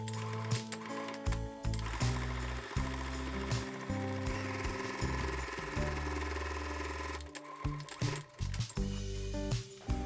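A sewing machine topstitches along the bottom of a square fabric tote bag, its needle chattering in quick steady bursts with brief stops and restarts, loud and close, with no talk.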